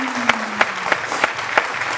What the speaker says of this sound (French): je vais demander à tous les esprits du studio ici d'applaudir très fort pour Denko.